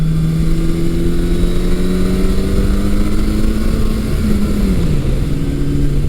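A 1982 Suzuki GS750E motorcycle on a test ride after restoration with a new clutch perch and a 1999 Suzuki Bandit 1200 master cylinder, its engine droning loud and steady up close, dipping briefly as revs shift, with no speech.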